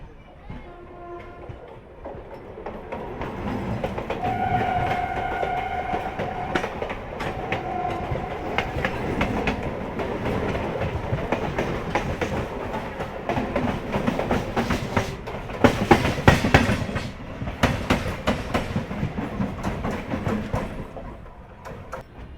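Onboard the Akal Takht Express between Kolkata and Asansol at 130 km/h, a steady rolling rumble of wheels runs throughout with rapid clickety-clack over rail joints, a brief horn early on, and faint voices in the background.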